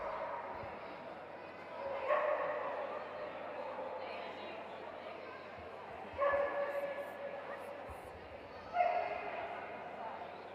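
Basset de Bretagne puppy, a seven-month-old male, gives a few yips or barks at a hound show, three short bursts spaced across a steady crowd murmur and ongoing announcer-style talk.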